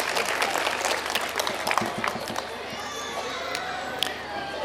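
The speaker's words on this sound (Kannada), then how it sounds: "ಎಲ್ಲರೂ ಆ ಎಲ್ಲ ಮಕ್ಕಳಿಗೆ ಒಂದ್ಸರಿ ಜೋರಾಗಿ ಚಪ್ಪಾಳೆ ತಟ್ಟಿ ಅಭಿನಂದನೆ ಸಲ್ಲಿಸೋಣ ನಾವೆಲ್ಲರೂ ಕೂಡ" An audience at a Hindu community festival in Holenarasipura claps for the children, a loud dense round of applause that fades after a few seconds, with faint crowd murmur at the end.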